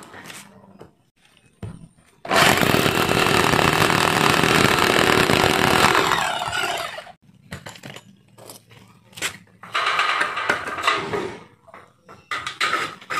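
A power drill whines loudly for several seconds while drilling for a dynabolt anchor in light steel framing, then stops; shorter bursts of drilling and tool noise follow with pauses between, close by.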